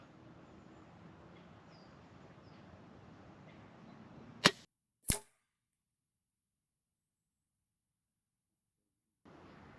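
A sub-12 air rifle fires one sharp crack over faint background noise, followed a moment later by a second distinct snap, likely the pellet's impact, before the sound cuts to silence.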